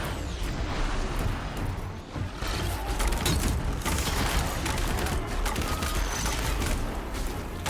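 A weapon in the video game Horizon Zero Dawn Remastered fires in dense, rapid bursts, loud and close, with mechanical clicks among the shots.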